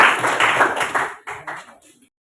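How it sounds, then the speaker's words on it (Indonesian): Classmates in a school classroom clap hands together in a brief burst of applause that thins out into a few scattered claps before stopping, with no voices heard over it. "Terima kasih aplaus untuk teman."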